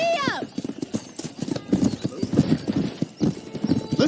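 A horse in the Red Dead Redemption video game whinnies, then gallops with rapid rhythmic hoofbeat clopping throughout, while a voice talks over it.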